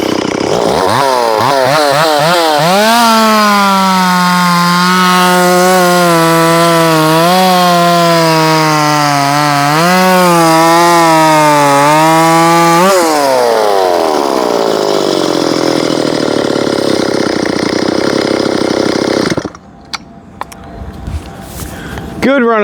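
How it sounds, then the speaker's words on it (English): A Stihl MS360 chainsaw cuts through knotty wood, its engine howling loud and near at a steady high pitch with brief dips under load, then revving down to idle before cutting off near the end. "Good running little saw."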